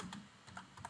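Quiet keystrokes on a computer keyboard, several light clicks spread across a second at a low, close level, with no speech.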